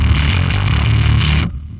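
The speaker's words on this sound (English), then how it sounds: "So this is what the fuzz sounds like engaged." A thick, heavily fuzzed bass note in Drop D tuning, played through a Headrush MX5 fuzz effect, rings out loud and buzzing, then cuts off abruptly into near silence.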